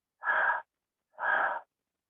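Two separate breaths drawn in through the mouth, each about half a second long with a short pause between, close and clear in a silent room with no talking.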